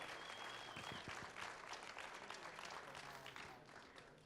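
Audience applause following a talk at an event, sustained clapping at a fairly soft, distant level, fading slightly toward the end.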